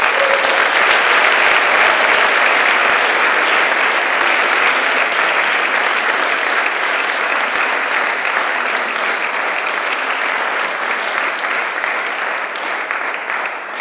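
Audience applause fills a youth congress hall, a steady wash of many hands clapping that carries on for the whole stretch and tapers off slightly toward the end.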